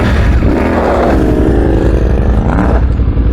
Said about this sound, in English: got the new exhaust on the CF Moto